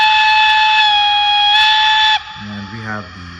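A loud, steady steam whistle from a model 4-6-2 Pacific locomotive blows for about two seconds, then cuts off as a voice starts talking.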